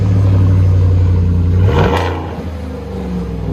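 A loud engine idles with a low, throaty exhaust note, then gives a quick rev before dropping back to a lower rumble.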